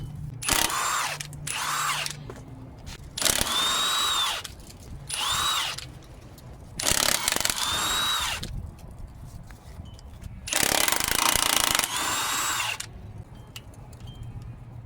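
A power tool drills off the 14mm nuts from a Toyota RAV4 rear hub during suspension repair, sounding in several loud whirring bursts of one to two seconds with short pauses between them, close by.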